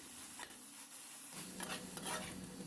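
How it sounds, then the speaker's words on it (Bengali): Khoya kheer is stirred into chhana in a pan while sandesh cooks, producing a soft, close sizzle with scraping stirring strokes that grow busier partway through; no one talks. "এই খোয়া ক্ষীর আমি ছানার সাথে খুব ভালো করে মিশিয়ে নিচ্ছি।"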